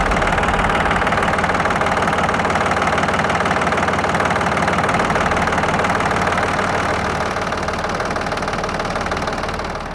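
A small diesel engine on a Japanese Yanmar F-190 mini tractor idles loudly and steadily nearby after warming up, with a constant rapid knocking chug and vibration, no voices.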